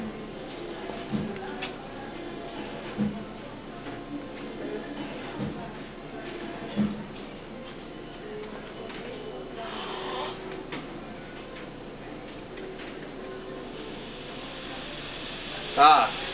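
Compressed air leaks from a pop-off valve on a holding tank in an industrial plant, a steady hiss that rises toward the end under intermittent talk and scattered knocks.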